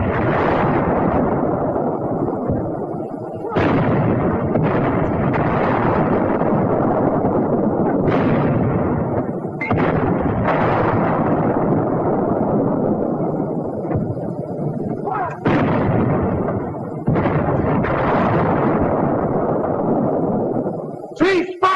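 A WWII US light infantry weapon fires shots into a four-foot-thick concrete roadblock: about five loud, booming blasts at irregular intervals, each with a rumbling tail that fills the gaps, on an old, dense soundtrack.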